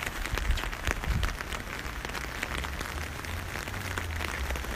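Rain falling outdoors in a steady, dense patter of drops on surfaces, close and continuous, with a few sharper splashes early and a low rumble beneath, no voices.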